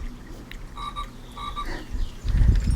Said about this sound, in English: when you walk by him or move him around, he makes the croaking sound.